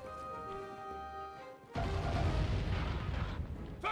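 Cannon fire in the video game Sly 3: Honor Among Thieves, a sudden loud booming blast that cuts in after a sustained musical tone and rumbles on heavily with a short bright accent at the end.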